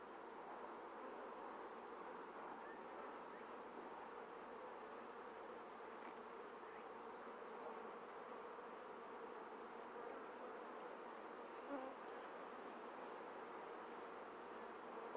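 Honey bees at a hive on a bee farm, a soft, continuous buzzing drone that stays faint and even throughout with no talking.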